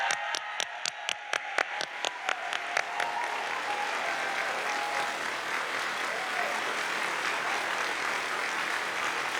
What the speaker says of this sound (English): Can I ask for a round of applause for our faculty and staff?